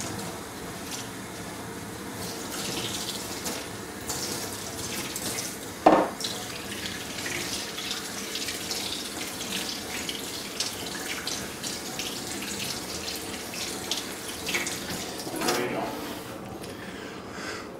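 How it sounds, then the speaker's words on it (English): Tap water runs steadily into a sink while a fluoride filter element is scrubbed with mild soap, a continuous close wash with soft rubbing and a brief clunk partway through. "you want to give the outside a good scrubbing with a mild soap"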